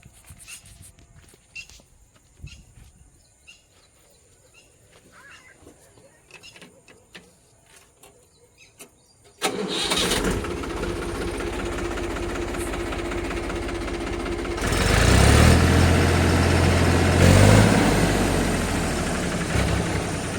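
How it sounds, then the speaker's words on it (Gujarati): A Mahindra tractor's heavy engine cranks into life with a sudden roar, then settles into a steady, loud rumbling idle that swells briefly before holding constant. "એન્જિન ઉપર ધુઓ ગેસ વરાળ કોઈ વસ્તુ આવતું નથી કંપનીનો ઓરિજિનલ અવાજ"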